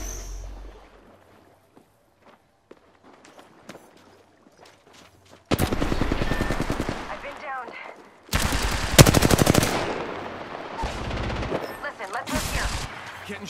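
Bursts of automatic gunfire in the battle game Apex Legends, quiet at first and then loud, rapid volleys from about five seconds on, with a second heavier barrage near the end and short pauses between sprays.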